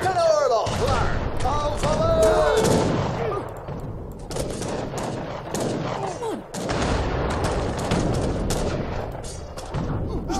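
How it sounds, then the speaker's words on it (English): Cannons and massed musket fire boom and crackle in a battle in the Age of Empires III strategy game, with rapid overlapping volleys and thuds that stay loud nearly the whole time. "Let's see if we can get these cannons firing at the factory here"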